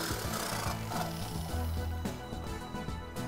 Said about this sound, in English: About to cut this door.